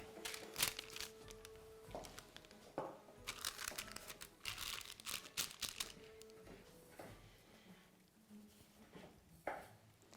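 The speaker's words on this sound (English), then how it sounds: "Now I'm just going to line it with a piece of paper, bit of brown paper to go on the top" Stiff brown paper crinkles and rustles as it is pressed over a dish in a Victorian-style kitchen, with bursts of crackling that come and go, loud at times and quieter in between, and no talking.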